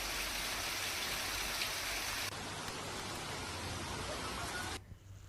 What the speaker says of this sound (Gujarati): વરસાદી માહોલ જામ્યો હતો।